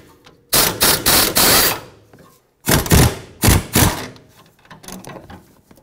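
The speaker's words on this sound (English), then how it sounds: "Take that mounting nut off." A ratchet wrench with a 14mm socket working loose a mounting nut on a 2005-2021 Nissan Frontier 4.0L V6, loud close clicking bursts in two groups separated by a short pause.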